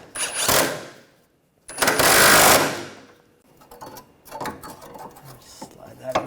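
A bolt is tightened on the AC condenser of a 2013-2019 Ford Escape 2.0L, with two loud, close bursts of a whirring driver followed by quieter clicks and clatter of tools.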